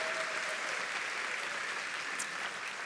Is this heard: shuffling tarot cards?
no